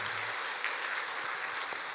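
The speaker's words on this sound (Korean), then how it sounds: "우리 한번 감사하다고 박수 한번 할까요?" Congregation applauding during a Sunday church service, a steady wash of many hands clapping at close range that holds evenly for about two seconds.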